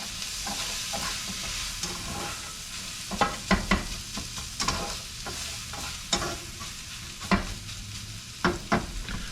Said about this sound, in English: just give your meat mixture a stir